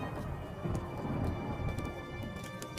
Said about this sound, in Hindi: जोर जोर से बिजली कड़कने लगती है